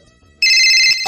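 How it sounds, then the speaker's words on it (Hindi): A phone ringtone starts abruptly after a quiet moment, a loud, steady electronic ring that continues close by and then cuts off. "एक मिनट फोन आ रहा है।"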